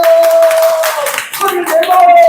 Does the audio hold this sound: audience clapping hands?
yes